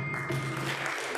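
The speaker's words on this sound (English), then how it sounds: "Cut the applause" Brief burst of applause at a Rotary Club civic luncheon meeting, a soft dense patter of clapping from the room that keeps going steadily.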